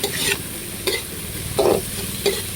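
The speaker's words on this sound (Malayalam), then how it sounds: "ഇനി നല്ല വഴന്ന് വരട്ടെ കേട്ടോ എന്നിട്ട് കാണിക്കാവേ" Food sautés with turmeric powder and salt in a pan: an even sizzle runs underneath while several bursts of stirring scrape and rattle up close, with no voices.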